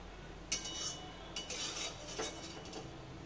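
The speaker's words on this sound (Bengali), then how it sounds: "এবার যে আলুগুলো আমি ভেজে রেখেছিলাম ওই আলুগুলো এখন এর মধ্যে দিয়ে দিচ্ছি।" Fried potatoes tipped into a metal tiffin box holding paneer, giving a few sharp clinks and scrapes of a spoon against metal at close range, spaced over a few seconds, with no talk.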